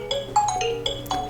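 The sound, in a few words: Nokia ringtone on Nokia 7 Plus phone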